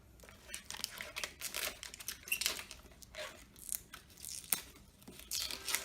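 Protective film is peeled off an Arcade1up TMNT Countercade cabinet, close crinkling and tearing plastic in irregular bursts, fairly quiet, with a voice faintly in the background.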